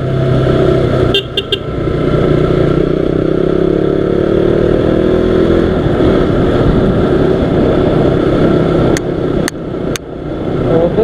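A KTM RC sport motorcycle rides along a road, its engine droning loud and close while passing traffic swishes by and a few short horn toots sound near the start and end.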